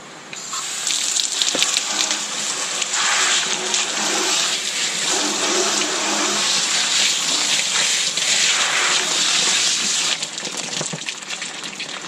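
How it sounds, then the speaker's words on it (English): Water runs continuously to rinse mold cleaner off a vinyl window frame, a steady close splashing gush that holds for about ten seconds before easing slightly, with no voices. "Let's give it a little rinse."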